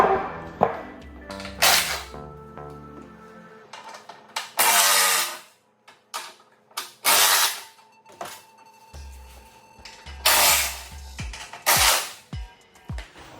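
Steel factory bumper end cap on a Jeep Wrangler JLUR 4xe having its T45 bolts removed: a series of loud, sharp bursts from a power driver, several short rattling runs separated by brief pauses, close up, with no talk.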